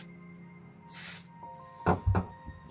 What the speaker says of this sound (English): put some contact cleaner in this switch